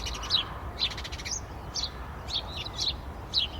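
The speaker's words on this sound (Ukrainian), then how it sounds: "співають пташки" Small birds chirp in short, bright bursts at a steady pace over a soft, low outdoor background in a village after rain.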